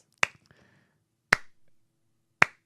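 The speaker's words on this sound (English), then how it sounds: "He gets the slowest clap." A deliberately slow clap on a radio talk show: three sharp, isolated claps spaced about a second apart, crisp and close against near-silence.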